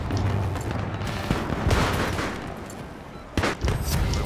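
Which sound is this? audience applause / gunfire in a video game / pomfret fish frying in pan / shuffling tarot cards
gunfire in a video game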